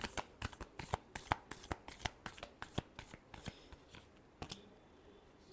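Tarot cards shuffled by hand, heard up close as a quick run of sharp, papery riffles and clacks in an uneven rhythm that slows near the end, fairly quiet, with no talking.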